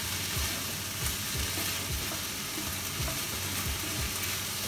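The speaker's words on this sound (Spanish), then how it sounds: "Ahora vamos a entrar los vegetales al repollo con el ajo y la cebolla." Vegetables with cabbage, garlic and onion sizzle steadily in a hot pan while cooking fried rice, a continuous close hiss with occasional stirring scrapes, no talking.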